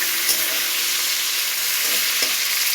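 Tilapia fish fry in hot oil in a wok, giving a steady, bright, dense sizzle throughout, with a few faint clicks of a utensil and no talk.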